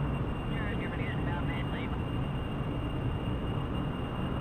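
An aircraft engine in Kerbal Space Program roars at full throttle, a steady loud drone with a faint whine that holds level throughout.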